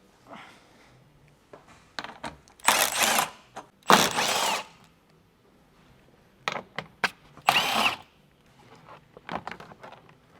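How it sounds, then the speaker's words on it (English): A power drill backs out 10mm bolts from a Toyota 4Runner skid plate, giving several short whirring and ratcheting bursts with quiet pauses between them, close by and without talk. "So we're gonna go ahead and take out those 3 bolts."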